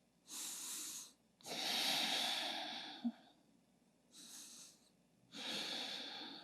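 Slow, deep breaths are drawn in and let out through the nose, close and alone, during a vinyasa yoga hip pose: about four long inhales and exhales separated by brief silences.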